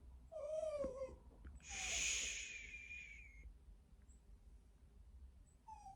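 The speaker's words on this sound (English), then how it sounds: "Excuse the background, it's my dogs." Dogs whimpering and yipping in the background indoors, a few high whines, one louder wheezy cry in the middle, then faint squeaks, with no talk over them.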